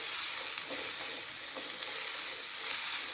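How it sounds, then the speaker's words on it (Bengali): Mixed winter vegetables with onion flower buds and tomato sauté in butter in a pan, making a steady bright sizzle broken by a few soft stirring scrapes, with no voice. "সব সহ আরো 2 মিনিটের মতো আমি সটে করে নেব।"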